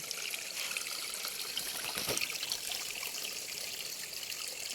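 Water from a natural spring trickles and splashes in a steady, close stream, a bright continuous rush with a brief louder gush midway.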